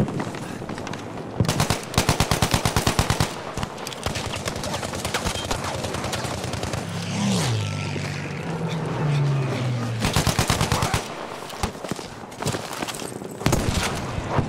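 Rapid automatic fire from the Ribeyrolles gun in Battlefield 5 conquest multiplayer, loud close bursts at the start and again near the end, with a quieter stretch of battle noise and a low engine-like rumble between.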